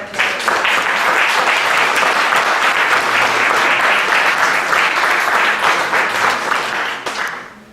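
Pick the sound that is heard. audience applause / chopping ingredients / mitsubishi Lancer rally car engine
audience applause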